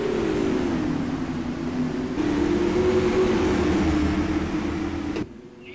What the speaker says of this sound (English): Great supermodified sim racing action coming at you at the world's fastest 3/8 mile